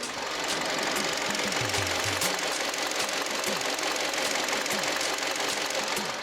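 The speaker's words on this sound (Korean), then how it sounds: "마지막으로 엔진 소리 한번 들려 드릴게요" A used LPG car's engine idles steadily with an even, continuous rumble and a faint rhythmic ticking, no voices.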